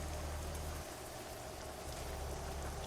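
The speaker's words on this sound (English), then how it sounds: "the calming sound of the rain" Steady rain falling in a trucking game, a soft, even, continuous hiss of drops with a low rumbling undertone, faint and unbroken throughout.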